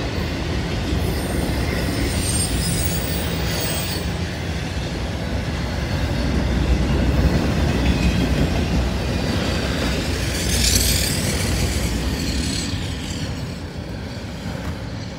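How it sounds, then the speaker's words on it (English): A freight train led by CSX Heritage locomotives rolls steadily past at close range, a sustained loud rumble of wheels on rail with intermittent high squeals from the wheels, the noise swelling midway and then easing slightly. "That's only the second and third CSX Heritage units I've caught."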